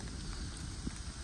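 Heavy pouring rain in a damp forest, a steady dense hiss of drops on leaves and ground that runs unbroken and close for the whole stretch, with no voices.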